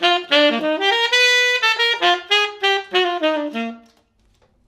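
A recorded version of a jazz tune plays as a single bright melodic line of sustained, quickly phrased notes, close and clear, before stopping abruptly into silence.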